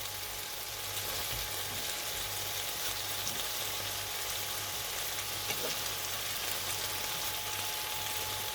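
Asparagus pieces frying in a pan give a steady, quiet, even sizzle that runs unbroken throughout, with a faint low hum underneath and no voices.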